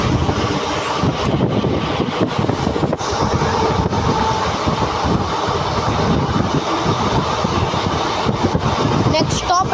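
The Circar Express passenger train runs at speed, a continuous loud rumble and clatter mixed with wind rushing past the microphone, with voices talking over it.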